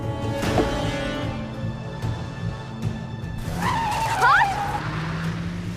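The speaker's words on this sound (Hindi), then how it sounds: "कैसे गाड़ी चला रहे हो? स्लो करो गाड़ी," A car is driven fast and recklessly, its engine rumbling steadily before the tires let out a sharp, rising squeal of skidding partway through. Muffled voices can be heard in the background.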